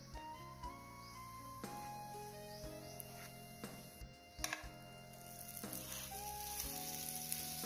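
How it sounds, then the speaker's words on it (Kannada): A stuffed paneer snack sizzles gently in a buttered pan, a soft steady frying crackle under background music with a few clicks and taps. "ಸ್ಟಫಿಂಗ್ ಆದ ನಂತರ ಒಂದು ಪ್ಯಾನ್ನಲ್ಲಿ ಇದನ್ನು ಸ್ವಲ್ಪ ಬಿಸಿ ಮಾಡ್ಕೊಳ್ಬೇಕು. ಮೇಲೆ ಸ್ವಲ್ಪ ಬಟರ್ ಹಚ್ತಾ ಇದ್ದೀನಿ."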